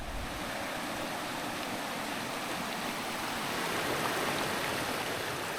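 Steady rushing water from a creek beside a campground, a continuous broadband flow without a break, close and fairly loud, with no voices over it.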